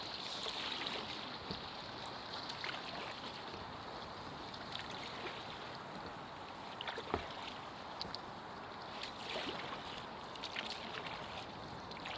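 A kayak paddles through the sheltered waters off Sunny Side Beach on Lake Ontario in Toronto in December, with soft, repeated paddle splashes and dripping over a constant wash of water and light wind.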